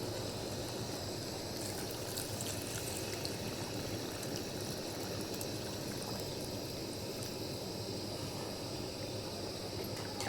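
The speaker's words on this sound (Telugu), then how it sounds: "friends water పోసేసుకుందాం" Water pours into mutton in a cooking pot as a steady, rushing stream at moderate, even loudness for the whole stretch, with no talking.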